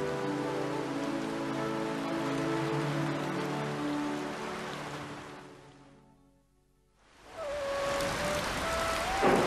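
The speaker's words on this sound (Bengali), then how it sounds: "যেইভাবে বৃষ্টি হইতাছে" Steady cartoon rain falls in a dense, loud wash that fades almost to silence near the middle before returning, with a sustained tone and music-like layers running through it.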